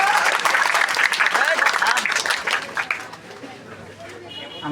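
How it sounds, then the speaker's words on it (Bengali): An audience at a school farewell and welcome ceremony claps for a speaker, a dense round of applause that fades after about three seconds, leaving faint murmuring in the room. "জনাব জাহাঙ্গীর আলম স্যারের জন্য একটু করতালি দিয়ে দেন"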